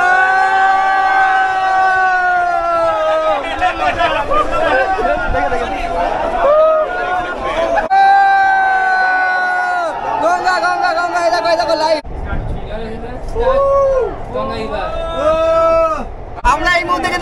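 Large crowd at the Kolkata underwater metro inauguration, a constant loud babble of many voices with shouts and cheering, and a prominent chanting or singing voice running through it.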